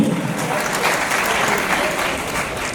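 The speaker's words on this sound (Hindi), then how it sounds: "जोरदार तालियां प्लीज, पूरा हॉल गुंजायमान होना चाहिए" Loud, sustained applause fills a large hall at a Rajasthani cultural gathering in Mira Bhayandar, a dense wash of clapping from a big crowd that holds steady throughout.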